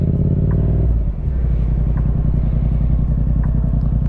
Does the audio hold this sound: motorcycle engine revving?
yes